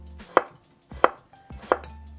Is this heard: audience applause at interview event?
no